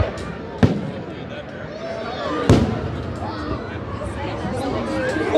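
Fireworks explode overhead at a Canada Day celebration in Regina, two sharp, loud booms a couple of seconds apart, with people chatting and talking throughout.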